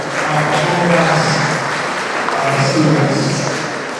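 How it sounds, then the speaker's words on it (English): Audience applause for performers at a law and society conference, a loud, steady wash of clapping with faint voices mixed underneath, holding level for several seconds. "A round of applause for our performance"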